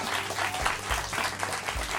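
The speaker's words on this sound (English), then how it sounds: "give them a round of applause" A crowd claps briefly, a short burst of applause with no voices.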